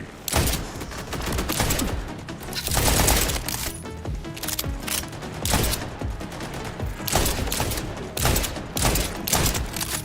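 Rapid bursts of gunfire from a Jacobs weapon in the Borderlands 4 video game, loud and dense, with repeated clusters of shots crackling back to back across the whole stretch without pause.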